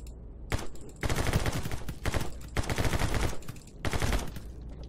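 Gunfire from a Kar98 rifle in the video game My Friend Pedro: loud rapid bursts of shots in several clusters separated by brief pauses, close and dominant with no talking.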